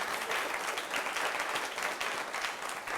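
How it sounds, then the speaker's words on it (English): Studio audience on a Nigerian TV talk show applauds steadily, a dense, even wash of many hands clapping throughout with no break. "A round of applause for him again."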